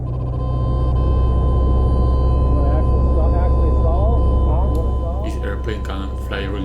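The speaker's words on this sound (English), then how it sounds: "First thing we do, we go up high and practice some slow flight and stalls" A light airplane, a Cessna, droning at low speed high up during slow flight and stall practice, with a steady engine hum and propeller tone under continuous cabin talk.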